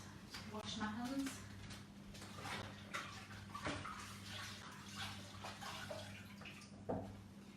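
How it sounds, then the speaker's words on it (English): Running tap water while hands are washed in a home kitchen during baking, a steady wash of water noise with brief clatters, alongside a constant low hum and a voice talking over it. "just wash my hands"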